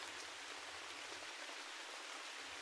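Gentle, steady rain falls in an even hiss with no other sounds and no voices.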